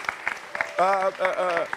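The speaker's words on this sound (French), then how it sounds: "je veux encore qu'on puisse applaudir très fort" An audience applauds the Ivorian tourism minister and his team at a public event, with clapping under a voice as he speaks loudly over it.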